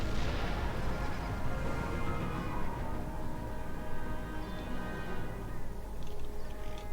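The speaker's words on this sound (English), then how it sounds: "their artillery is causing us a lot of pain." Artillery fire in an Empire: Total War battle, with booming cannon shots rolling under a dense, continuous wash of battlefield noise and a steady tonal music bed, sustained at an even loudness throughout with no talk.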